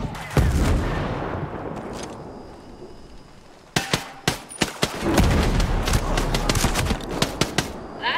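Rapid bursts of gunfire in the tactical shooter Ghost Recon Breakpoint, sharp cracks clustering in the second half with clanging impacts, loud and close over a rumbling battlefield background, with a voice shouting briefly.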